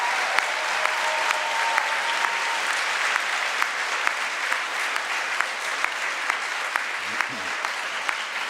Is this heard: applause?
yes